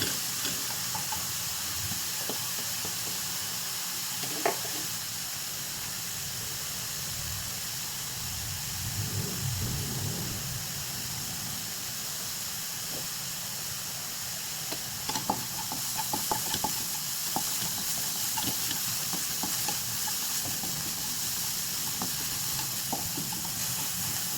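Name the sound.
onions and garlic sauteing in a pan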